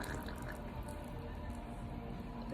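Sauce squirted from a bottle onto baked beans in a pan, giving a steady, close, wet dripping and squishing texture with no talk.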